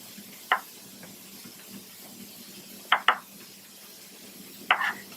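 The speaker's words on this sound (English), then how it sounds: "I'm going to do a quick mince on my rosemary and thyme" A knife chops rosemary and thyme for a homestyle shepherd's pie: four sharp, close taps on a board in loose, irregular pairs over a faint room hum.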